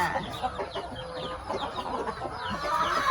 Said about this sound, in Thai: ไก่จิกค่ะ ไก่จะกินข้าวค่ะ